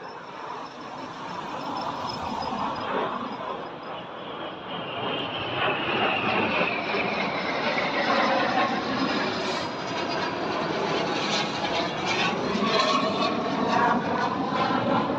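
Aircraft flying overhead on approach into RAF Valley on the coast, a steady broad jet roar that swells and holds, fairly distant, with no talking.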